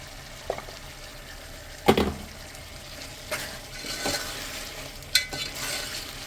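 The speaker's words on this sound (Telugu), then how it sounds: "అన్నీ కలిసే వరకు మంచిగా కలుపుకోవాలి" Chicken curry with turmeric is stirred in a pan: a low sizzle underneath a few distinct scraping strokes and clinks of a spoon against the pan, spaced out, close and with no talking.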